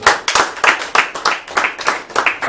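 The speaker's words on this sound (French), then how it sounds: "Acclamez pour lui." A church congregation clapping for their pastor, loud close rhythmic handclaps in a steady beat of roughly four per second, with faint voices underneath.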